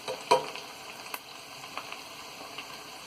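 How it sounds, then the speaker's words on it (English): Stirring thyme, turmeric and black pepper into a pot of Nigerian jollof rice, heard as faint scraping and soft clinks close by with a quiet sizzle underneath, and one sharper knock near the start. "all you gotta do is stir and mix everything together"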